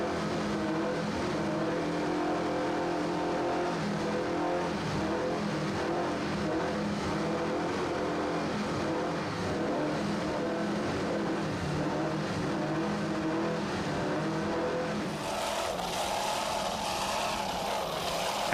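An offshore racing powerboat, How Sweet It Is Too, roars at speed during the 1993 Virginia Beach Offshore Grand Prix, a loud continuous engine drone with wind and water rush that shifts near the end.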